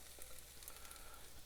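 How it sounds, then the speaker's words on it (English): Onions frying in hot olive oil in a pot, a faint, steady crackling sizzle with a few soft pops, heard alone at low level. "You can hear them. You can hear that sizzling right now."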